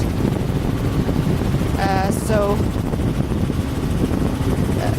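A steady, loud helicopter roar of rotor and engine fills the whole stretch while flying over dune grass, with a brief voice rising over it midway.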